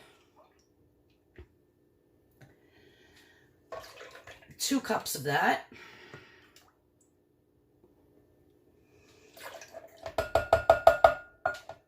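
Unsweetened vanilla almond milk glugs and splashes into a mason jar in two short bursts, separated by quiet, with a brief spoken phrase nearby.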